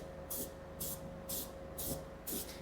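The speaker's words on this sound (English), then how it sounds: "what I'm going to do is hit this with some rust converter, top and bottom" Rust converter is sprayed onto the metal of a Jeep TJ in five short, evenly spaced hissing bursts from an aerosol can, close and fairly quiet.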